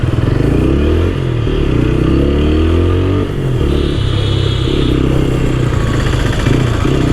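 A TVS Apache RTR 160 4V Black Edition motorcycle is ridden at steady speed, its engine droning loud and close in a continuous buzzing hum with a brief dip partway through.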